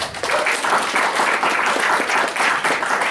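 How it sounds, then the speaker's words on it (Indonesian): Loud, sustained applause from an audience at a Nahdlatul Ulama anniversary and Gus Dur commemoration, with many hands clapping in a dense, even wash close to the listener. "Untuk keduanya mari kita tepuk tangan terlebih dahulu."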